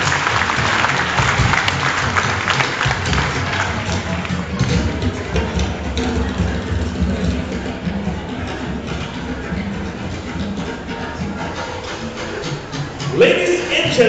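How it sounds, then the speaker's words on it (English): A church general assembly audience at an opening night applauds in a hall, a broad, sustained crowd clapping that runs the whole stretch at fairly even loudness, with a louder burst near the end. "A round of applause once again."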